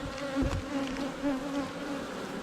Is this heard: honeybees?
yes